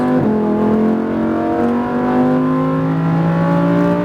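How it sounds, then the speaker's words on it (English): A Lamborghini Huracan's engine pulls hard on a SpeedVegas track, a loud, close, continuous roar whose pitch climbs steadily as the car accelerates out of a turn. "So as we're unwinding the wheel here, we can increase gas smoothly."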